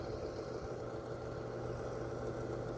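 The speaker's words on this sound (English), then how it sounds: "So that's this blower right here." A DIY air filter blower runs steadily, a continuous even hum with a low droning tone, close by and unchanging, with no voices.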